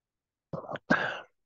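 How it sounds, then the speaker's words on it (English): A short two-part sneeze close to the mic, a brief burst followed by a louder, breathy release, with silence around it. "Sneezing."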